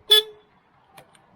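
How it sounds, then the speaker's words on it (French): A short, sharp horn beep from an MCTT 2700-300 micro loader, loud and close, followed by quiet with faint mechanical clicks. "klaxon"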